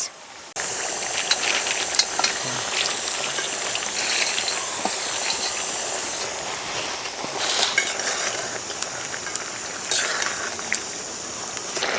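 Spring onions and small puti fish go into a bubbling gravy for chorchori on a low flame, with a steady close simmering hiss, occasional scraping stir sounds and brief clanks throughout.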